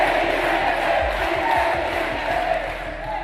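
Lawmakers in the Argentine Congress shout together as a loud, steady crowd roar with scattered yells, sustained and dense for a few seconds without a clear single voice.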